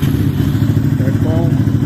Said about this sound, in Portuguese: vamos ver o barulho aí do motor, como é que ficou